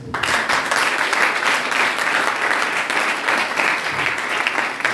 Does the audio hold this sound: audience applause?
yes